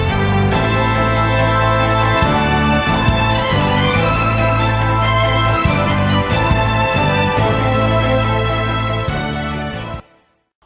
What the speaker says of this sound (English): it makes them sound a little bit more like a section of strings.